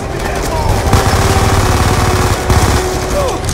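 Rapid bursts of automatic gunfire crackle loudly and repeatedly in Call of Duty: Black Ops 2, with sharp isolated shots mixed in, sounding like game combat effects.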